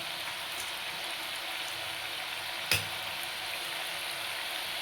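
Chakali fry in hot oil in a pan, a steady, quiet bubbling sizzle broken once by a single sharp click.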